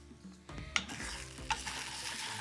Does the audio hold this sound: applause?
no